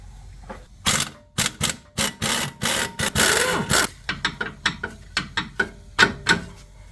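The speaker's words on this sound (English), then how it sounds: "Let's go ahead and remove this bolt." On a Jeep Wrangler a control arm bolt comes out with a series of sharp, close clicking and ratcheting bursts in an uneven rhythm, followed by quicker, lighter clicks, with no voices.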